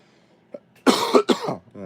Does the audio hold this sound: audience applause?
no